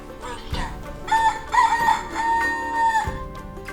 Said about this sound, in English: Let's see how the rooster wakes up the farmer. Let's hear its sound.